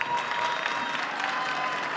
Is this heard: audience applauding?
yes